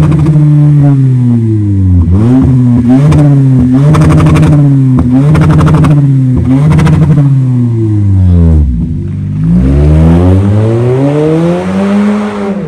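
A loud tuned exhaust on a Toyota Camry 2.5 revs repeatedly, engine pitch climbing and dropping in sharp bursts, then sweeping up in a longer rising roar, close and unbroken.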